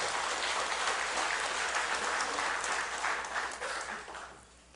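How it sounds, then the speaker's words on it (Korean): A church congregation applauds its choir with steady, full clapping that holds evenly, then thins and fades toward the end. "우리 찬양대를 위해서 격려 박수 한번 보내주시기 바랍니다."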